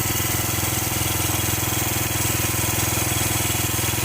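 Motorcycle engine with a freshly fitted new piston and cylinder block, running loud and close with a steady, rapid pulsing drone and no clear rise in revs.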